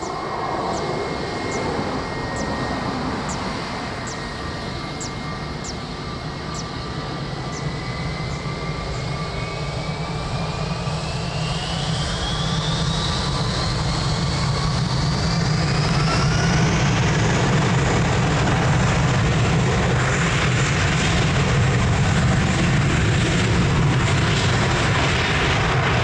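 A Portugal-registered airliner takes off from runway 02 at Lisbon Airport, its jet engines swelling from a distant whine into a loud, broad roar with a rising tonal sweep as it accelerates.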